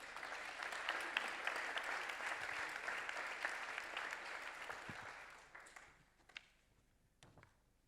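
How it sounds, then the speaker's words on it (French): Audience applause at a business debate on future jobs, a full, sustained round of clapping that fades out after about five seconds into scattered last claps and near quiet. "Merci d'accueillir et d'applaudir Christophe Mouisset, directeur des partenari"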